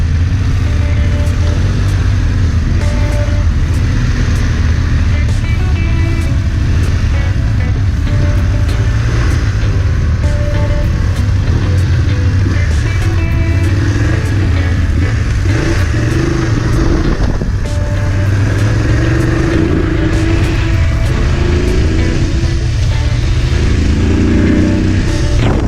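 A BMW GS motorcycle being ridden, its engine droning loud and constant close to the microphone with wind rush and occasional shifts in pitch as it accelerates along the road.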